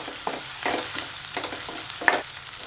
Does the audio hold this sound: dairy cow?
no